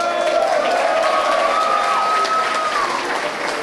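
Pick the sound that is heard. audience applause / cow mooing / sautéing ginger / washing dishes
audience applause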